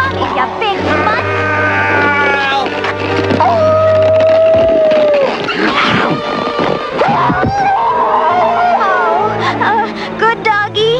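A big cartoon dog howls and whimpers in a loud, wavering drawn-out cry, mixed with animated sound effects and character voices talking over it.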